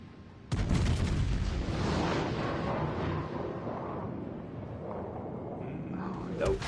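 Naval guns boom from warships in World of Warships Legends, a sudden loud blast followed by sustained rumbling cannon fire and explosions, with voices talking over the battle.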